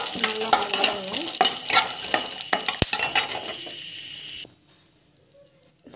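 Toor dal and chana dal sizzle as they are stirred and sautéed in a pan, with scraping spoon strokes and a clink of metal over steady frying, until the sound cuts to near silence at the end.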